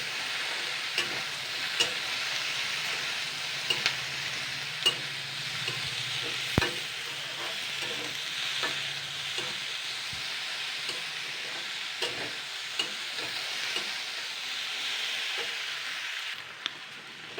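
Okra lightly frying in a pan, a continuous moderate sizzle and hiss lasting throughout, with occasional light clicks and scrapes from stirring, close by and free of speech.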